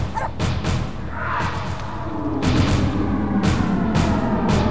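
Dog barks in a tense scene from a dubbed Hindi action film, sharp repeated barks rising over a loud, busy background of music and effects.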